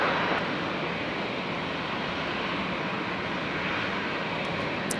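An airliner on approach to runway 01 right at Brisbane Airport produces a steady, loud broadband roar that holds evenly throughout, with no voices over it.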